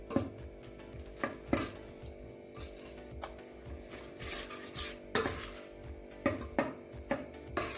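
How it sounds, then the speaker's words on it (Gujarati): A spoon stirs and scrapes ground cumin, red chilli, turmeric and hing into a rava batter in a bowl, making a close, soft rubbing sound broken by repeated sharp clinks against the rim. "હવે આ બધું સરસ રીતે મિક્સ કરી દઈશું."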